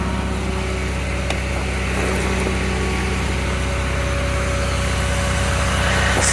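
A 2008 Honda Civic, just repaired for power steering and transmission leaks, idles with a steady, even engine hum heard up close, with no talking.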